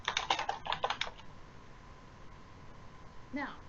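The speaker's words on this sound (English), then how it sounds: "so I can type notes in here." Quick burst of computer keyboard typing, a rapid cluster of close, light key clicks for about a second, then quiet room tone and a brief voice at the end.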